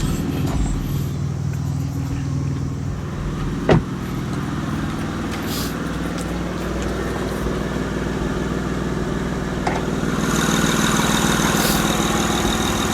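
7th gen JDM Honda Accord V6 idling after startup, a steady low engine hum close by, with a brief click and a slight rise in level late on.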